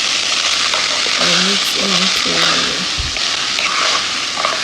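Rice frying with browned sharia noodles in a pot, giving a steady loud sizzle and crackle with faint stirring scrapes, while someone speaks over it.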